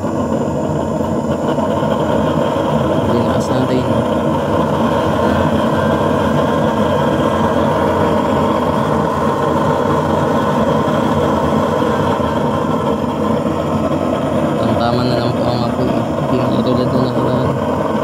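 A homemade used-oil burner stove roars with its flame, a loud, steady, rumbling broadband drone with no break, close to the listener throughout.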